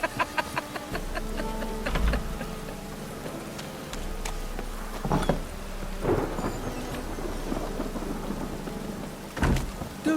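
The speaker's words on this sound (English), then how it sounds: "A storm, damn it." Steady heavy rain pours through a thunderstorm in the video game The Witcher 3, with several deep thunder rumbles breaking through the constant hiss at intervals.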